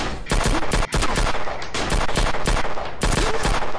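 Rapid, loud gunfire rattles in a tactical shooting game, a near-continuous stream of close, punchy shots that breaks off briefly a couple of times before resuming.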